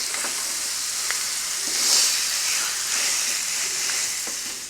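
A pork chop sizzles on an indoor Blackstone griddle, a steady close hiss of frying fat with a brief swell as the meat is moved and flipped, plus light scraping clicks from a utensil.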